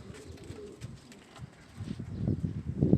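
Newly acquired domestic pigeons coo in low, repeated throaty calls that grow louder and busier toward the end, close by.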